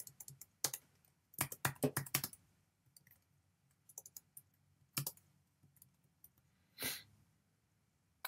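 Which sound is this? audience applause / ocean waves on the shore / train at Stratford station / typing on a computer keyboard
typing on a computer keyboard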